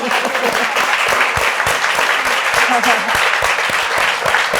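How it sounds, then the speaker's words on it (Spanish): An audience claps warmly after the author Pilar is introduced at a presentation of her book, a dense run of hand claps with individual sharp strikes standing out, near and loud throughout. "Le damos un aplauso a Pilar."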